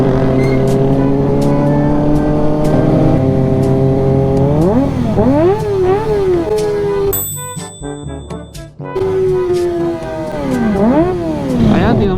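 Vehicles in a riders club motorcade through Alaminos City, Pangasinan rev their engines loudly and up close, the pitch climbing and falling repeatedly. The revving is nearly continuous, with a brief dip partway through before it surges again.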